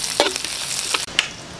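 Ginger and garlic fry in a pan with a constant close sizzle. Two or three quick stirring scrapes stand out above it, and no one speaks.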